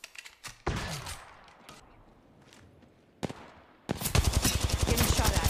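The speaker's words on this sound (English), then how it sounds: "Getting shot at." Gunfire in the mobile battle royale game Apex Legends Mobile: scattered single shots early, then a loud, sustained burst of rapid automatic fire near the end.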